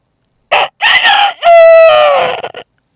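A human voice imitates a rooster crowing, loud and close: two short clucking bursts followed by a long, drawn-out crow that falls in pitch at the end.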